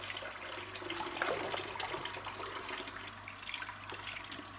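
Tap water runs steadily into a sink while makeup brushes are rinsed, a soft continuous splashing hiss at low volume with no voices.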